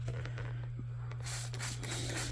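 Water misted from a handheld spray bottle onto pet toads, a soft broadband hiss building in the second half over a steady low electrical hum.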